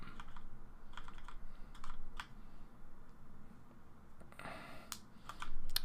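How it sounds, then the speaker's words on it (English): Typing on a computer keyboard with Cherry MX Red switches, quiet rapid keystrokes in irregular bursts with occasional louder clicks, close and alone. "can you guys hear my keys tonight? I'm using a keyboard with Cherry MX Reds,"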